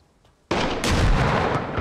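Sudden loud burst of gunfire in the military shooter Arma Reforger, erupting from near quiet into a sustained booming roar with a second heavy report close behind.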